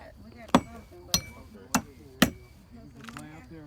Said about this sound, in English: Just nail these nails down.